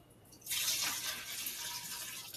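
A steady splashing pour of nuruk (rice wine starter) suspended in water into a container, starting after a short pause, close and continuous, ending with a brief clunk.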